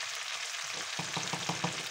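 Rabbit stew with a garlic and parsley mortar sizzles steadily in the pan while a spoon scrapes and stirs through it in a quick series of rhythmic strokes, close up with no voices.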